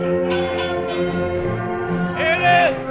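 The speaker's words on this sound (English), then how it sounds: "Ring the bell." At a wrestling show during a tag team title match, a ring bell sounds in a few quick, bright strikes amid crowd noise and voices, followed by a louder ringing tone.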